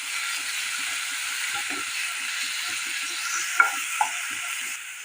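Onion paste sizzles and spits in hot oil in a wok, a continuous close frying hiss broken by soft stirring strokes and two brief clinks of the spoon toward the end, no talking.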